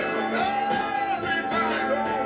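A blues song plays from a vinyl record steadily at moderate volume, sustained guitar-like notes and harmonies ringing through with no one talking.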